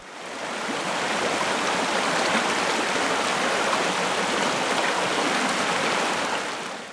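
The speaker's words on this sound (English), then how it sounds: "The normally small burn we camped by was now a raging torrent." A normally small Highland burn, swollen into a raging torrent after heavy rain, roars in a dense, steady rush of churning water beside a campsite, loud and close with no other sounds.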